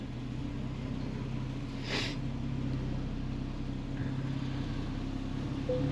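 Porsche 911 991.2 GTS engine with the exhaust valve open, a steady low idle rumble running throughout with a brief rise in intensity around the second mark, close and fairly loud.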